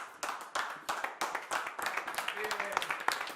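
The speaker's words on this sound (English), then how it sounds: "Cue the crowd cheering." Crowd cheering and clapping in a dense, steady burst of applause, with many overlapping hand claps and excited voices blending into a lively roar.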